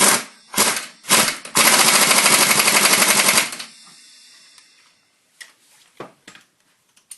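An impact wrench fitted with a torque stick hammers on a Kawasaki V-twin snowmobile's secondary clutch: two short bursts, then a loud sustained rattling run of about two seconds, followed by quieter clicks and knocks of parts being handled.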